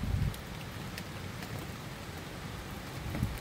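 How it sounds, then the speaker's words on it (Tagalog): Heavy rain pours down with gusting wind at night, a dense continuous hiss and roar with low rumbling gusts, steady and close throughout. "Ulan at saka hangin."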